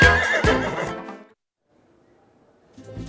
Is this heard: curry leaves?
no